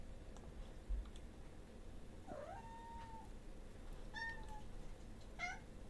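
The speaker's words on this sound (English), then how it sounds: "kitty cat's talking to me here" A cat meows a few times, short rising and falling calls spaced apart over a steady background hum, fairly faint and close.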